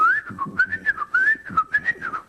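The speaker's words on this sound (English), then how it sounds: "he had a penny whistle, you know, those Irish whistles" Penny whistle, also called an Irish whistle, playing a lively melody on a TV show set: a bright, wavering tune of short fluttering phrases that runs continuously and close.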